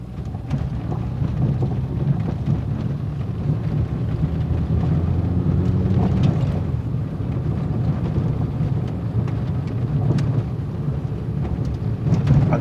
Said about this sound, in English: try to take a listen to the amount of rev drops between second gear and third gear